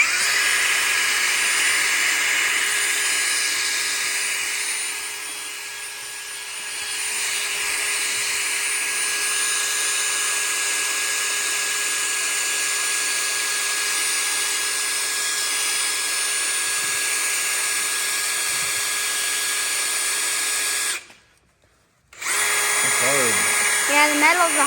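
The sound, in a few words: drill boring a hole in a metal pipe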